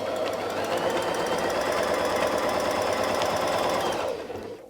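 A sewing machine stitches quilt fabric in a fast, steady mechanical rattle, close and continuous for several seconds before stopping abruptly near the end.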